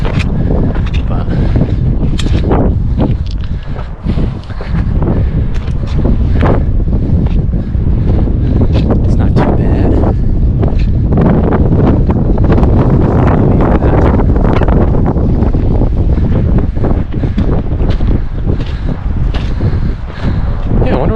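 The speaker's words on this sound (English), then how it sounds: "As you can hear, it's still pretty windy" Strong wind buffets the microphone on a snowy mountain trail at Bird Ridge, a loud continuous roar with gusty surges throughout.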